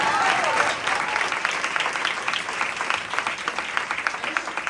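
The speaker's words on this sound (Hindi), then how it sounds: "We are clapping hands so that you will make more biryani." Church congregation clapping hands during a worship service, dense applause that settles into rhythmic, evenly spaced claps, fairly close, with voices faintly underneath.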